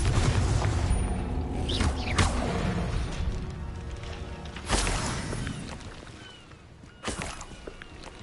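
Confringo blasting spell explosions in a Hogwarts video game, a booming crash at the start followed by a few more sharp bursts, each with a rolling tail, amid shuffling game noise.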